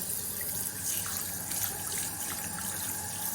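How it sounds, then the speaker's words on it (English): Water flows steadily from a turned tap into a hotel bathroom sink in Brighton, a continuous, close, even splashing gush with no pauses. "And then we've got taps that you actually have to turn."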